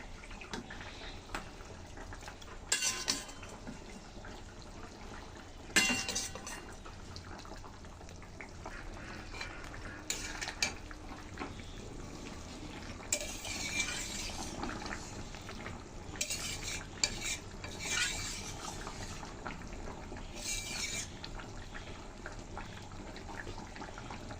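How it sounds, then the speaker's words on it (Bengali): Eggplant pieces tipped into a pan while cooking a vegetable curry, with repeated scraping and clinking of a spoon against the pan at intervals over steady low background noise; no talk. "এখন দিয়ে দিচ্ছি আমি এখানে বেগুনগুলো।"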